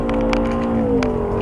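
A BMW M5 on a race track, its engine holding a loud, steady drone with a rising then slightly falling pitch through a short burst of acceleration, heard close and continuous with no talk.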